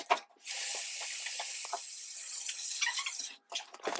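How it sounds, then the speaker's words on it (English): Tap water runs steadily into a sink as hands are washed at home, a broadband rushing hiss of about three seconds that cuts off abruptly, with faint kitchen movement before and after. "First, we need to wash our hands."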